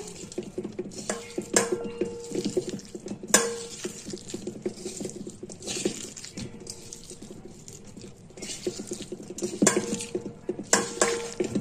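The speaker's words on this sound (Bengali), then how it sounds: "এবার এটা ভালো করে হাত দিয়ে মেখে নেব" Spices and sunflower oil are mixed by hand in a metal bowl while preparing a hilsa fish dish, producing soft wet squelching and stirring with occasional sharp clinks against the bowl, close and moderately loud, without talking.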